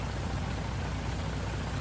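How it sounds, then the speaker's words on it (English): Steady rain in Farming Simulator 19, a dense, even hiss of falling drops that stays constant and fairly loud with no other sounds. "The rain hasn't stopped yet."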